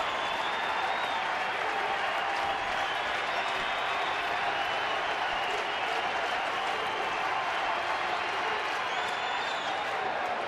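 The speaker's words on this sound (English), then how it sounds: "You won't be able to talk over the crowd." At a Major League Baseball game in Arizona, a large stadium crowd roars and applauds in a continuous, even wash of noise, with a commentator talking over it.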